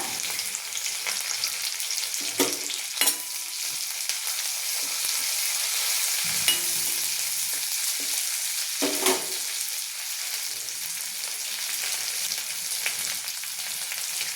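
Curry leaves, red chillies and poha chivda ingredients fry in hot oil for a Diwali snack, giving a steady close sizzle and crackle throughout with a few sharper pops and stirring clatters, no talk.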